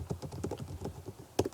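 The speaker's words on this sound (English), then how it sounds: "And as I start typing" Quick, light keystrokes on a computer keyboard, a brief close run of taps in an uneven rhythm with no talk.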